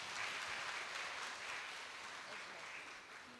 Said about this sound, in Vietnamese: Xin mọi người dành tặng một tràng pháo tay ạ.